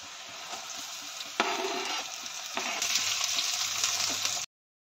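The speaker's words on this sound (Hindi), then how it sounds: "मूंगफली फ्राई हो चुका है, इसके अंदर डालेंगे हम मिर्ची। इसके अंदर डालेंगे हम प्याज।" Peanuts fried in a pan with chillies and onion added, giving a steady close broadband sizzle that jumps louder twice as the ingredients go in, with faint stirring scrapes and no talk.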